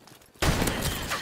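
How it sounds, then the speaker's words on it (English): A shotgun firing in Call of Duty Modern Warfare Remastered, a single sharp loud blast that cuts in abruptly after a quiet moment and rings out over the rest of the clip. "now I'm gonna end all you guys' careers with this shotgun"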